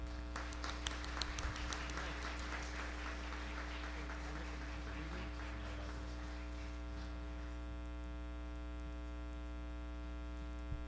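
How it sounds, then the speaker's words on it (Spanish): Audience applause for a Colombian musical group at a concert honoring masters of Colombian music, a burst of clapping that thins out and fades over several seconds above a steady electrical hum. "Y creo que un merecido aplauso para todos ustedes."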